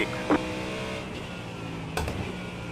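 Corvette GT3 race car engine in the iRacing game, a steady mid-pitched engine hum running throughout at moderate level, with brief bursts from other sounds and no clear talk.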